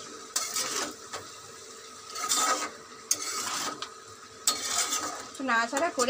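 Garam masala being stirred into a covered cooking pot, with repeated scraping and clattering bursts of a spoon against metal, spaced by quieter stretches, close and moderately loud.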